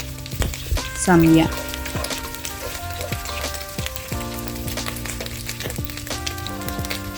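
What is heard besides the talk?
stirring and sautéing in a pan for Bicol Express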